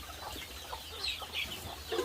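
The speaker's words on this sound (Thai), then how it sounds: "ไก่กา" Chickens cluck softly in short, scattered calls over a constant low background hum, somewhat distant and faint.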